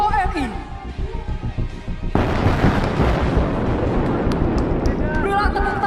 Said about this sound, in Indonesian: Inilah dia tembakan dahsyat salvo tank Leopard 2 RI.